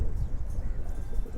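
A female Giribaz pigeon coos close by, a low, throaty burbling that rolls on continuously and fairly loudly with no pause.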